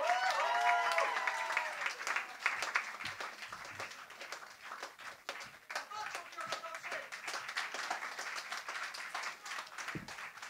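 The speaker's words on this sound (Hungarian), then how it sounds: "fogadjátok nagyon nagy tapsal" Audience clapping and applause at a slam poetry competition in Pécs, a dense burst of many hands that swells then settles into steady clapping, with a voice over it early on.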